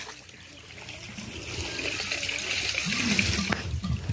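Water trickles and splashes steadily from a broken water line, growing slightly louder, with a faint hiss throughout and no one speaking.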